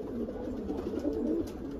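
Japon Macar pigeons cooing together in a loft, a low, soft, continuous murmur of overlapping coos held close and steady throughout.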